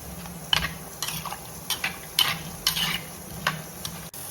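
A spoon stirs salt and spices into a pan of erissery, a Kerala pumpkin and lentil curry, giving a series of close scraping, clinking strokes against the pan with faint sizzling beneath and no talking.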